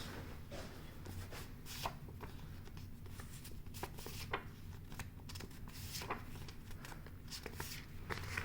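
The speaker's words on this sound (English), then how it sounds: "I would like to show my note cards" Four paper note cards handled and shuffled close up: repeated soft rustles, flicks and slides of card edges in an irregular rhythm, quiet and alone in a still room.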